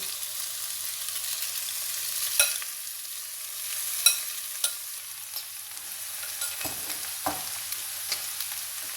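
Soaked poha with cucumber being added to a hot pan and stirred, giving a soft sizzle with scattered scraping clicks and a few sharper knocks of the spoon against the pan, close and without speech.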